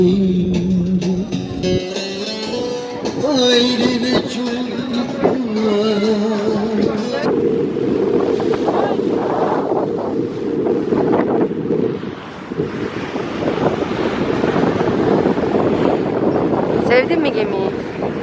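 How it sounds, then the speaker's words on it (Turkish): A ferry carries passengers across to the far shore, its engine droning under heavy wind buffeting on the open deck and a wash of waves, while people talk nearby. "sevdin mi gemiyi? Vapuru"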